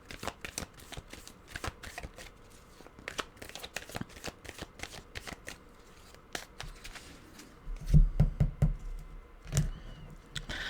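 Tarot cards are shuffled close by in repeated quick riffling bursts, followed near the end by a few soft thumps as the deck is handled.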